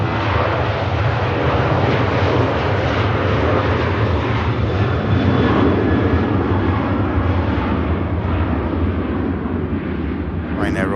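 A Ryanair jet takes off from Manchester Airport in a loud, sustained engine roar that swells slightly mid-run and eases toward the end, with a brief spoken sound at the close.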